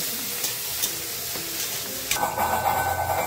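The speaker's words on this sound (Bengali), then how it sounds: "চিংড়ি মাছগুলোকে ভেজে নেব। চিংড়ি মাছ ভাজার সময় সামান্য নুন দিয়ে দেব।" Shrimp fry in hot oil in a wok with a little salt, giving a loud, steady close sizzle with light stirring noises that swells slightly toward the end.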